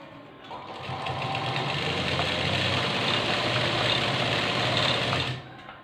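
A sewing machine stitching salwar fabric runs up to a steady, fast mechanical whir and clatter, holding close and loud for several seconds before stopping abruptly.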